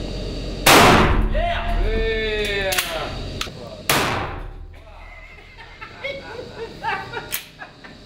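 A Smith & Wesson .50 caliber revolver fires two loud, sharp shots a few seconds apart, each with a ringing tail, while excited voices talk and shout around them.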